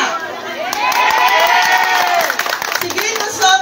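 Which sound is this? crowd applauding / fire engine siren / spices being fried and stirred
crowd applauding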